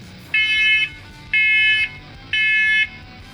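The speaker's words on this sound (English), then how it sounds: "Damn smoke alarms keep going off." A smoke alarm in a knifemaking workshop sounds in three loud, piercing electronic beeps of about half a second each, evenly spaced with short gaps between, close and alone.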